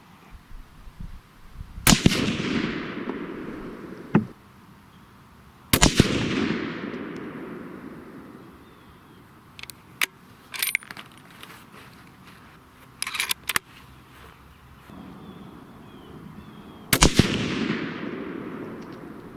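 Savage 111 bolt-action rifle in .270 Winchester firing Barnes 130-grain TSX loads, four sharp, loud reports spaced several seconds apart with long ringing decay and faint handling clicks between shots.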